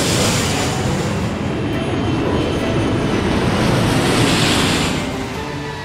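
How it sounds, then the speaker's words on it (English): Cartoon airplane coming in to land makes a loud, continuous engine roar and rushing wash that holds steady, then eases slightly near the end. "Camilla, you are cleared for landing for real this time."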